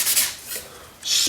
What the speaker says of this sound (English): that's 3M medium sanding sponge